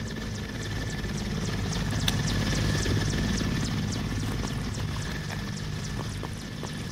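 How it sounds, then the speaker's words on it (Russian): A helicopter flying overhead in the video game STALKER: a steady rotor thump and low engine drone hold throughout at a moderate distance, fairly loud and without a break. "вертолет напрягает этот,"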